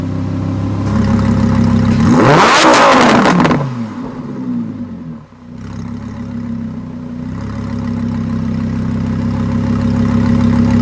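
A 2015 Lamborghini Huracan LP 610-4 V10 in Sport mode revving from idle, a loud close blip rising sharply to a high-pitched howl, then dropping back to a steady burbling idle.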